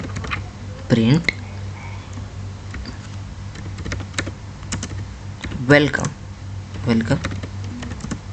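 Python code is typed on a computer keyboard in quick, light clicks under a steady electrical hum, with someone talking in Hindi over the keys.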